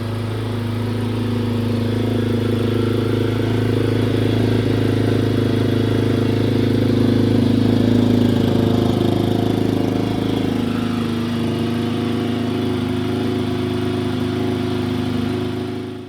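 A Yamaha XT250 dual-sport motorcycle engine idles steadily while warming up, a loud, close, even single-cylinder putter that holds constant throughout with no speech.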